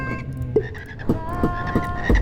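Frogs croak in the Juice Galaxy game, with a string of short, punchy ribbit calls at uneven intervals over a soft tonal game backdrop, close and fairly loud.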